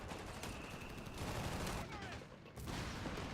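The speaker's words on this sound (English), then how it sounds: "Oh, good barrage on this flak." An artillery barrage in Company of Heroes 3 pounds a flak emplacement, heard as a dense, continuous wash of rumbling blasts and crackling bursts at moderate distance.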